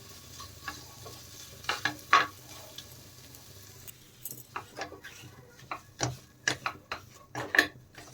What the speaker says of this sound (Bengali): তো মাওয়াটা এখন একটু ঘিয়ের মধ্যে ভেজে নেব।